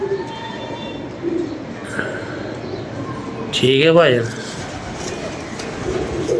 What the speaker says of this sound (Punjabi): ਕਾਂਟੇ ਵਾਲਾ ਟੈਡੀ ਕਬੂਤਰ।